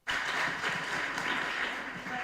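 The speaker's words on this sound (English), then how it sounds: "Come on, let's clap for them as they take their seat." An audience at an International Women's Day event applauds as panelists take their seats, a sudden full round of clapping that holds steady and dense for a couple of seconds.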